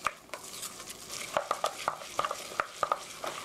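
Ground meat being stirred with beaten egg in a bowl for meat sauce, giving a steady wet churning with clicky utensil taps against the bowl, fairly close and moderately loud, with no talking.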